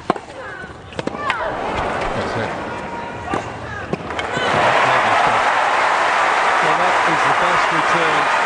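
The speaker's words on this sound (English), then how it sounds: "Hear the crowd go up with it." Tennis crowd at the 2008 Australian Open final between two players, a few sharp racket hits and then a swelling roar of cheering and applause after a return, with commentators talking.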